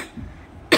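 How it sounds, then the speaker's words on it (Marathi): A single sharp, close cough from a person with an ongoing cough, heard alone near the end of a short quiet stretch. "खोकला तर कंटिन्यू येतोच आहे।"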